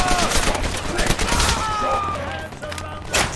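Rapid gunfire from a weak rifle in Call of Duty: World at War, a dense, continuous rattle of shots with battlefield noise, loud and unbroken throughout.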